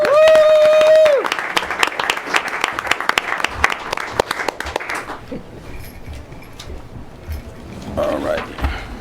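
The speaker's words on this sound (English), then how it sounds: "Let's give another round of applause to Ms. Henderson, the music teacher." Applause at a school board of education meeting honoring the music teacher, a steady crowd clapping that swells and fades over several seconds, opening with a brief tonal beep and rising again at the end.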